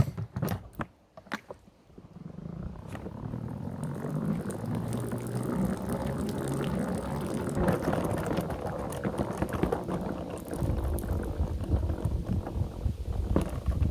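Dirty water spinning out of scoured, rinsed sheep fleece in a spinner, a steady loud whirring rush that starts after a couple of sharp knocks and holds for most of the clip.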